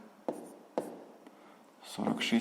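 A pen writes on paper during a sixth-grade maths exercise, two sharp scratchy strokes followed by softer scribbling and then a few quick marks, close and fairly quiet.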